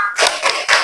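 Classroom of students doing the tepuk cinta rhythmic clapping game: three sharp bursts of group clapping in quick succession, close and loud.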